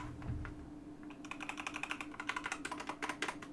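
Mechanical keyboard with brown switches typed on at a steady pace, close and fairly quiet: a few scattered keystrokes at first, then a quick run of crisp, even clacks with no talking.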